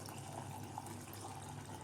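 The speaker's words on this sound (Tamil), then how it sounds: "இப்போது அதுலேயே வந்து நம்ம மிக்சி ஜாரை கழுவி அந்த தண்ணியை சேர்த்துக்கலாம்" Water from rinsing a mixer jar is poured into a pot of chicken kurma, making a steady, continuous splashing pour at close range with no voices.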